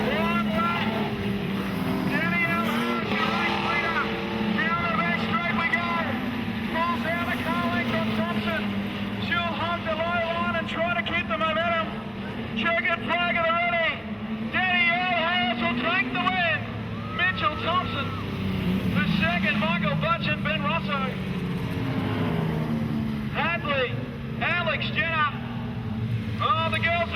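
Modified production race cars roar around Maryborough Speedway during a night meeting of the National Modified Production Title, their engines a steady, loud drone under continuous commentary.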